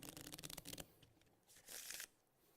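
Playing cards being shuffled close up during a magic performance: a quick burst of rapid riffling clicks, a short pause, then a softer brushing shuffle.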